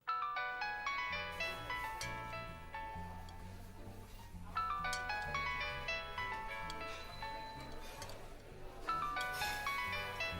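A phone call attempt brings a repeating melodic ringtone, cycling in regular bursts of notes at moderate level with no talk over it.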